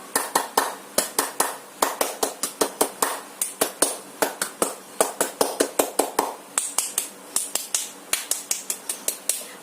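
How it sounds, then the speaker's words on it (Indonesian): Rhythmic Scout (Pramuka) hand clapping, crisp sharp claps in quick patterned groups with short pauses between phrases, close and clear with no voices over them. "Yuk kita coba tepuk pramuka."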